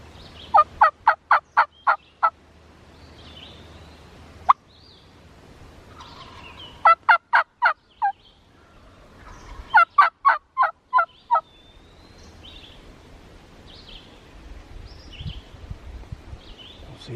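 Wild turkey gobbler in spring woods, gobbling in several loud rattling bursts of rapid notes separated by pauses, with faint rustling and quieter bird calls in between.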